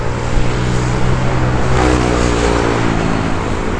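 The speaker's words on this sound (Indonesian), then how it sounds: "suara motornya kayak pembalap" A loud motorcycle roars past on Jalan Baloy, a paved city road in Batam, its steady engine drone filling the traffic noise with no talk.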